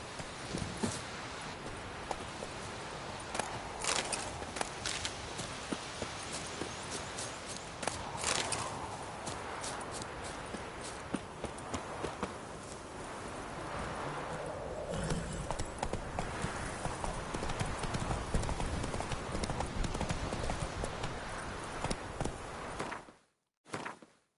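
Roach, a horse in The Witcher 3, moves at a steady trot or gallop, her hooves clopping rhythmically and close throughout amid outdoor game ambience.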